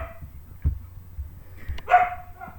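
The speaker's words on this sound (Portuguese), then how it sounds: "Desculpe aí a Mel, que não sei o que ela viu, começou a latir aqui, a minha Mel" A pet dog barks indoors, giving a few brief, sharp yips and a whiny bark toward the end, faint and set back from the microphone, with no speech.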